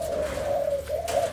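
Leopard terkuku doves give a soft, steady coo, a sustained tonal call heard close and alone, with a brief break before it resumes.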